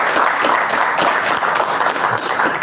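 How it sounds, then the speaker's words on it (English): An audience applauds a speaker at the inauguration of a public relations project implementation committee, with dense, steady clapping from many hands that stays loud for the whole stretch. "Let's give him a big round of applause."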